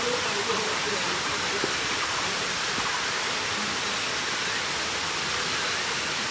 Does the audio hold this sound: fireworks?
no